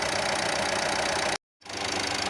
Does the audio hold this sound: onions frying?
no